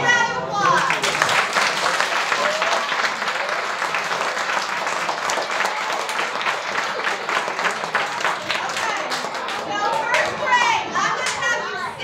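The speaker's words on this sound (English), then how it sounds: "So big round of applause." Children in a school room clap and cheer in a big round of applause, a dense, steady wash of clapping mixed with excited young voices that lasts throughout.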